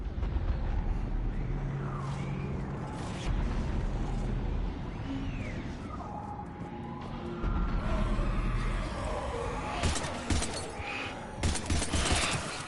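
Gunfire in the Mass Effect video game: rapid bursts and scattered shots crackle over a dense, rumbling battle din, with some voices heard now and then amid the fighting.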